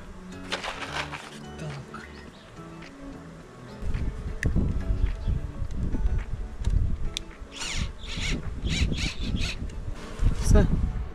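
Bees buzzing around a wooden beehive, a steady insect drone close by under a man's speech, with clicks and handling knocks growing louder partway through.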